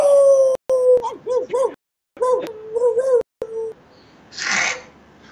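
A voice imitates a dog's howl with several drawn-out, wavering wails, then a breathy burst follows near the end.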